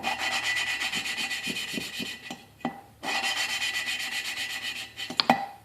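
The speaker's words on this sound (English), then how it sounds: "you can really notice how it starts out loud as it starts to grind and then just gets really quiet real quick" Valve lapping on a 1995 Enfield Bullet 500 engine, a dry, gritty rasp of grinding compound rubbed back and forth in two long bursts, close and fairly loud, with small clicks and a brief pause between them.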